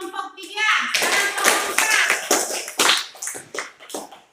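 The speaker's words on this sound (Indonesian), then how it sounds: "Oke, kita berikan aplaus untuk kelompok 3" A classroom of students gives a round of applause for a student group, a dense burst of clapping that swells after a spoken line and then tapers off, with young voices mixed in.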